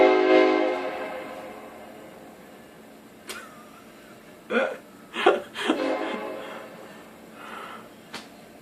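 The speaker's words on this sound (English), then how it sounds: "There's this train that just, every time I'm about to speak," A passing train, its horn sounding at first and then trailing off into a low rumble, with a few short vocal noises on top.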